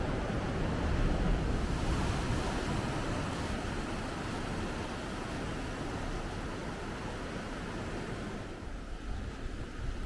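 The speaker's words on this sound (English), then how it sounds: "You can hear the sound of the waves crashing against this cave." Steady, roaring surf crashing against a sea cave in Fuerteventura fills the scene with a dense wash of crashing water and wind, continuous and close, with no voices.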